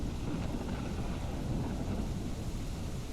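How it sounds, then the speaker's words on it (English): Steady rain with a low thunder rumble in a video game night scene beside a plane, a dense, even wash of noise holding at constant loudness with no voices. "I can even take shelter from the rain in here"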